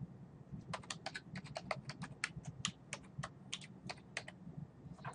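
Rapid keystrokes on a computer keyboard as a file name is entered, a quick irregular stream of crisp clicks at close range with a faint background hum and no talking.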